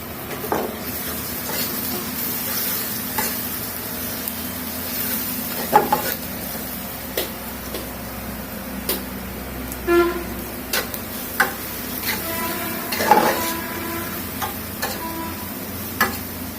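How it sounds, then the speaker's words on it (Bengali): Grated garlic with dried red chillies frying in oil in a pan, browning while being stirred: scattered spatula clicks and scrapes over a faint, steady sizzle, close by with no talk. "এই যে আমার রসুনটাকে খুব সুন্দর করে লাল লাল করে ভেজে নেওয়া শেষ"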